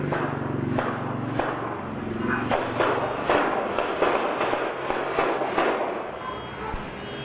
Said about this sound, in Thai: แล้วก็มีเสียงปืนดังขึ้นหลายนัดลองดูนะฮะ